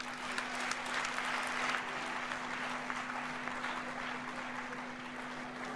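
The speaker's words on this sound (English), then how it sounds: "I believe our candidates deserve a very loud round of applause" Steady, sustained applause from an audience honoring candidates at an election peace and justice event, broad and even for nearly six seconds, with a faint constant hum underneath.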